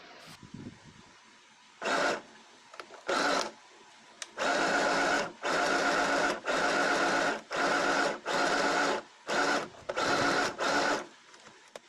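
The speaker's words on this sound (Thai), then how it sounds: "เดี๋ยวเราจะมาเย็บต่อกัน ตรงนี้นะคะ หันผ้าด้านถูก เข้าหากัน แล้วก็เย็บเข้ามาประมาณครึ่งเซนค่ะ" A sewing machine stitches fabric pieces for a scrunchie together in close, loud bursts of rapid whirring, starting and stopping about eight times with quiet gaps between runs.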